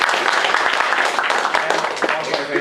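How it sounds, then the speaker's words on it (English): A hackathon audience at a game presentations event applauds with dense, loud clapping that is steady throughout, with voices mixed into the crowd noise. "so applause for that"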